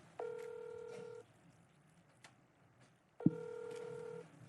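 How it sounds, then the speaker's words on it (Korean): Telephone ringback tone during an outgoing call on a Korean TV news panel: two clear, steady ring bursts of about one second each, separated by a few seconds of quiet line. "신호는 갑니다만 받질 않습니다."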